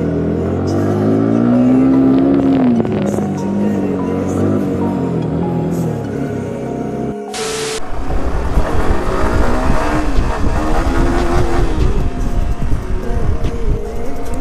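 A Yamaha R15 motorcycle revs hard off-road through water, its engine note rising and falling in loud repeated bursts, briefly cutting out before roaring on again.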